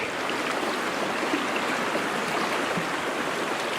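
A rapid-flowing river in Washington State rushes over rocks, a full, steady roar of churning water heard close and alone, with no voices.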